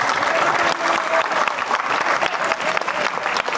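A live comedy show audience claps steadily, a dense, continuous round of applause filling the room.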